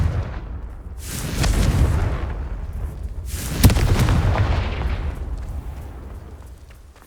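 Two fiery blasts from the Confringo spell in the Hogwarts Legacy game, each a swelling burst with a sharp crack at its peak, then a long rumbling tail that fades out.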